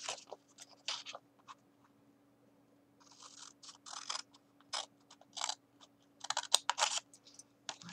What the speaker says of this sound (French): Donc je vais couper ici jusqu'à la pliure